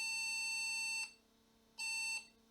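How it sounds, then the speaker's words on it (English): An Olivetti M300 486 computer with a cracked motherboard beeps at power-on in two sustained, shrill electronic tones, the second starting after a short silence, all fairly faint. "It's beeping. And it's beeping, but there's nothing on the screen"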